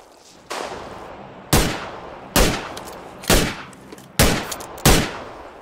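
Six loud, separate gunshots in a video game, each a sharp crack with a short decaying tail, spaced about a second apart and heard with almost no talk.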